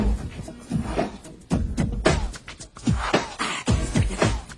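Someone beatboxes a drum rhythm with his voice, a voice imitating percussion: close, punchy, irregular bursts of clicks, snorts and breathy hits with short gaps between them.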